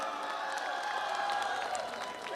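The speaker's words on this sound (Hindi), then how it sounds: "ये सिंह साहब के लिए तालियां थी।" Audience applause at a Hindi poetry recital, a soft, steady wash of many hands clapping from a crowd, fairly distant and even for a couple of seconds.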